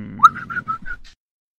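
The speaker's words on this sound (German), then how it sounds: "ich versuche mal, mit Pfeifen zu locken" A person whistling to lure a creature: a short series of about five clear whistled notes, a rising first note then shorter repeated ones, close and alone.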